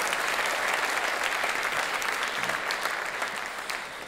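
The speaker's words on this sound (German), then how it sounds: "Hey, gibt ihm nochmal einen Applaus." A church audience claps in steady, dense applause that holds at an even level for about four seconds and eases off slightly at the end, with no voices over it.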